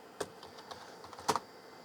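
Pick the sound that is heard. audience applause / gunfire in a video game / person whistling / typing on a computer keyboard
typing on a computer keyboard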